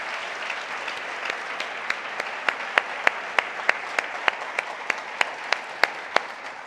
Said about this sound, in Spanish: Démosle un aplauso a nuestro Salvador.